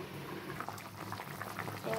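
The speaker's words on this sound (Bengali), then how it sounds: "ঝোলটা ফুটে উঠেছে দেখুন" Fish and vegetable curry broth boiling in a pot, a steady close bubbling and simmering that carries on throughout, with no talk.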